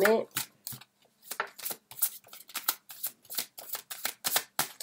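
Tarot cards being shuffled by hand in quick repeated bursts of riffling and slapping, close and crisp with short pauses between handfuls.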